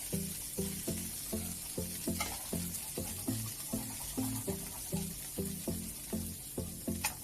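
Chickpea stew browning in a pan is scraped loose with steady, rhythmic strokes about twice a second, close and moderately loud over a continuous frying sizzle.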